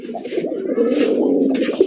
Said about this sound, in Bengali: বন্ধুরা এখানে রয়েছে এক জোড়া দেশি বোম্বাই কবুতর, একদম বিশাল সাইজের মধ্যে